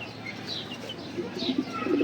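Damascene and other fancy pigeons coo softly in a loft, low gentle calls repeating close by over faint background noise.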